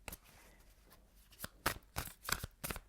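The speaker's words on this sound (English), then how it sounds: "One more shuffle, please" Tarot cards being shuffled in a deck, giving a few quiet riffling bursts and short crisp flurries near the end, fairly close and soft against a faint background.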